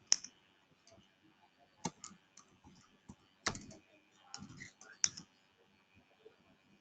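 Keys typed on a computer keyboard while entering a paragraph of document text, soft scattered clicks in short irregular bursts, fairly quiet and close, with no talking.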